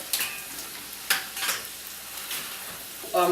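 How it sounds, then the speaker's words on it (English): Lean ground beef browning in a pan, a steady sizzle punctuated by sharp scraping strokes as the meat is broken up, close by, with a brief clatter at the end. "Lean ground beef, start breaking it up."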